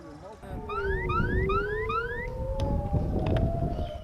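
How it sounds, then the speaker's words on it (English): An air raid siren in northern Israel wails with repeated rising sweeps over a steady tone, fairly loud above a low rumble of background noise. "Air raid sirens blared in northern Israel"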